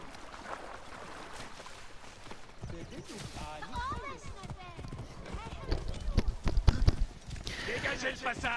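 Galloping horse hooves in Assassin's Creed Origins thud under someone talking and other game sounds, with the hoofbeats growing heavier and louder toward the end.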